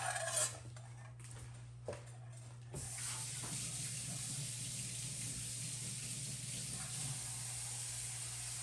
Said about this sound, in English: I'm gonna fill everything with hot water.